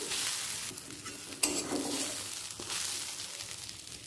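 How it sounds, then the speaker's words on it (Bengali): Cashews and onion frying together in a pan, a steady close sizzle with stirring scrapes and a sharper clink or spatula knock near the middle, no talk. "কাজুটা পেঁয়াজের সাথে একই সাথে ভেজে নিলাম।"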